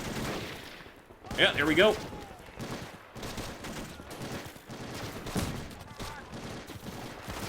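A WW2 Pacific combat game set in the Battle of Saipan: rapid bursts of rifle and machine-gun fire crack repeatedly, with a louder explosive burst early on and someone talking in between.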